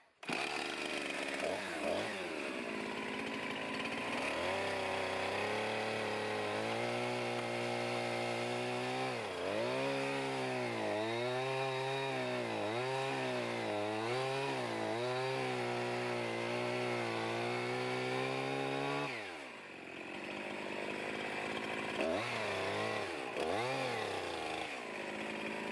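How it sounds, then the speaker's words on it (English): Old chainsaw working on wood for log cabin carpentry at an off-grid cabin: a loud, steady engine drone with repeated revving and bogging pitch swings as it cuts, a brief drop near the end, then more revving. "Pardon the noise, a little more chainsaw carpentry."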